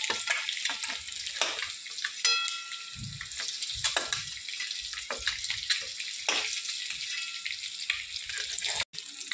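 Eggs shallow frying in oil for an egg curry give a continuous bright sizzle and crackle at close range, with occasional soft knocks as they are turned.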